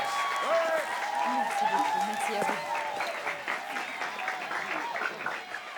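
An audience on a wildlife auction show applauds, a steady wash of clapping with a voice talking over it before the applause thins out toward the end.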